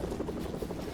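Helicopter rotor and engine drone in the Fortnite video game, a steady low thumping whir holding constant for the whole second with no voices.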